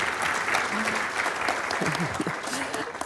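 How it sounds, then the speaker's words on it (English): Sustained audience applause in a plenary hall at a conference, steady and fairly loud, with voices murmuring underneath. "round of applause, yes."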